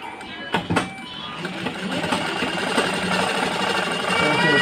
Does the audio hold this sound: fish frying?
no